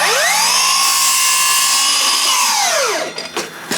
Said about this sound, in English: I'm gonna take my saw, I'm gonna set my blade so that I cut to that short point.